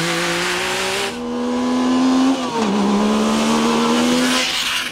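A Yamaha YXZ 1000 R side-by-side with a modified 998 cc three-cylinder engine drives hard, its loud, close engine note climbing through revs, dipping briefly at a gear change, then pulling up again, with some tire noise.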